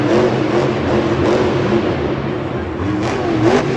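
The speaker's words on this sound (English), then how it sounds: "The truck sounds like it's straining a little bit more than it wants" A monster truck engine at a Monster Jam event in Houston, Texas roars continuously, revving and straining under load with a rough, steady growl and slight pitch swells, loud and without talk.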